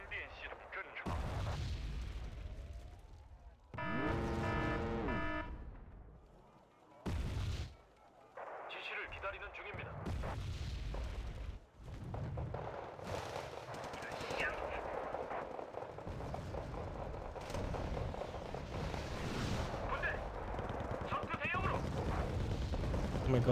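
A video game battle with 88 artillery guns on the field booms out heavy cannon shots and rattling machine-gun bursts, loud and layered, with voices talking over the gunfire throughout.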